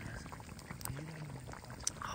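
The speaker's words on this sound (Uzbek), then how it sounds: "Qo'zi go'shti qovurmasi mayda-mayda qaynayapti." Lamb meat qovurma roast bubbling and frying in a pot, a steady close simmering crackle with soft spattering throughout the short stretch.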